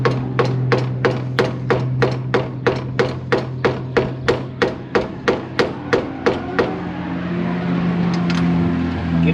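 A hammer strikes repeatedly at a stripped intercooler bolt on a Nissan S14 Silvia with an RB25, about twenty sharp metallic blows in a fast steady rhythm over an idling engine drone, then the blows stop.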